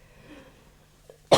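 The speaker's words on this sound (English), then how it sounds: "I've been coughing for a few weeks" After a near-silent moment, a single sharp cough bursts out close and loud at the very end.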